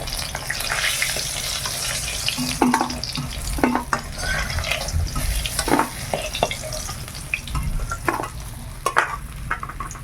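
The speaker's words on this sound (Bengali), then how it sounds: "সব মাছ ভাজা হয়ে গেছে" Fish pieces fry in a home kitchen pan with a busy crackle and sizzle, broken by scattered spatula clicks and stirring clatter at close range.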